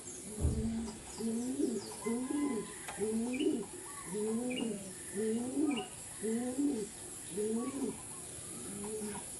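Pigeons cooing close by in a steady run of soft, throaty, repeated calls, with faint chirps in the background.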